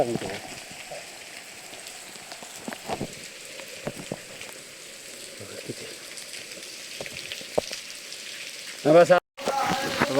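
Heavy rain at Ghangad fort, a steady close patter of drops on surfaces with faint voices underneath and a brief louder rustle near the end.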